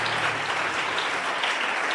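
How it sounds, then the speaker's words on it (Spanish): Church congregation applauding during a sermon, a dense, even roar of many people clapping at once, continuous and moderately loud. "Demos un aplauso al Señor."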